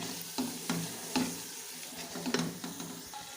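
Red chilli powder being stirred into bhindi gosht in a pan, a spoon scraping in several distinct strokes over a soft sizzle, close and fairly quiet.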